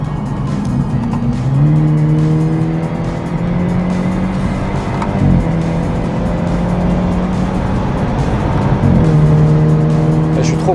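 Race car lapping the rain-soaked Nürburgring circuit, engine droning loud and close as it shifts through gears, with tires squealing and skidding as the rear loses grip on the wet track; no talking heard.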